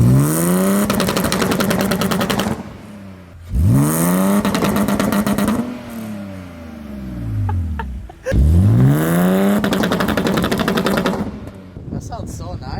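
A pre-facelift BMW E46 engine is revved hard several times, each rev climbing sharply and falling back, with crackling bursts between the pulls. Close and loud, with voices briefly in between.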